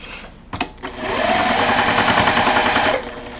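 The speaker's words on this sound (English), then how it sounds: "you can sew the rows any way you'd like" A sewing machine stitches rows of a quilt block, starting with a few short clicks and then a steady, close, rapid whir for about two seconds before stopping.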